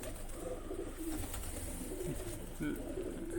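Soft, low coos from pigeons being fed repeat a few times against a steady background hum, with faint bird calls mixed in.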